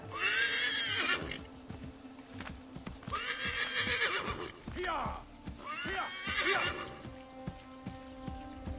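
Horse in Assassin's Creed III gives several long, loud neighs and whinnies with snorts between them, while hooves clip-clop underneath and speech and game sounds run through the scene.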